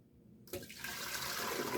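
Homemade almond milk is poured from a bowl back into a container, a steady splashing liquid pour that starts abruptly after a brief quiet moment and continues close and fairly soft.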